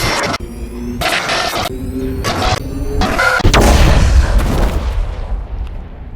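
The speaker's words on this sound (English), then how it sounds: "Why did it explode, though?" Explosion in the video game Mass Effect: a loud, full-bodied blast with a rumbling low end that swells and slowly fades over a few seconds, following some rhythmic, stuttering bursts.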